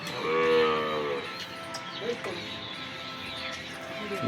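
Kathiawadi cows, local Banaskantha cattle on a farm, give a loud, drawn-out moo near the start, followed by softer farmyard sounds and a faint background voice.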